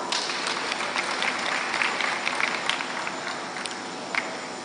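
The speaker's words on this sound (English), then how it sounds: "let's have a round of applause for her." An audience at a conference bursts into steady applause, dense clapping filling the room and holding at an even level throughout with no speech over it.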